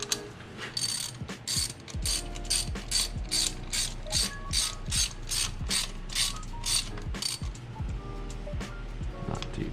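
Hand ratchet snugging coil pack bolts on a car engine during a misfire repair, rapid clicking strokes repeated in a steady rhythm, close and fairly quiet, with no talking.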